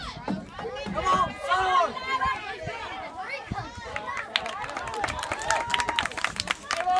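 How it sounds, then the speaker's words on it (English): Excited crowd at a high school soccer regional championship, Region 7AA between MCHS and Lexington, voices shouting and cheering in bursts with some clapping, while an announcer talks over it. "The crowd getting a little excited"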